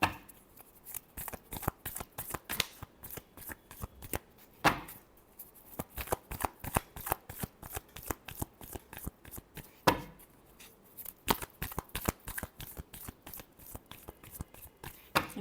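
Tarot cards are shuffled close up in rapid, continuous riffling bursts of crisp papery flicks, with brief pauses and a couple of louder slaps of the deck.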